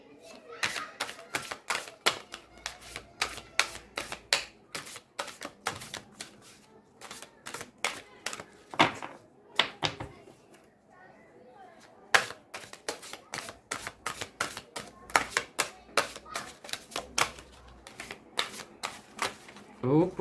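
Tarot cards shuffled repeatedly, a long series of sharp riffling snaps and slaps with short pauses between bursts, close and fairly loud, with faint talking in places.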